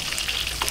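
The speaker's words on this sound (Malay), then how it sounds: "Lepas tu kita goreng kacang panjang masuk sikit dah." Long beans frying in hot oil with red chilies in a pan, a steady sizzle with light crackles and stirring scrapes, close and continuous.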